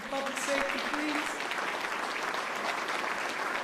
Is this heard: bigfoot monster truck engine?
no